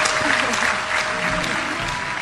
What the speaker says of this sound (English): Tony proudly claps his hands overhead.